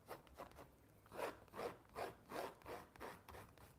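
Palette knife scraping paint across a canvas while painting a lizard, a soft rasping stroke repeated about six times in a steady back-and-forth rhythm, close and fairly quiet.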